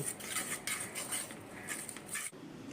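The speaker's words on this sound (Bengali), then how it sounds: "গুড়ের সাথে পুদিনা বাটাটা ভালো করে মিশিয়ে নিচ্ছি।" A utensil scrapes and clinks against a pan while melted jaggery and ground mint paste are stirred together, soft steady scraping at low volume with a brief pause near the end.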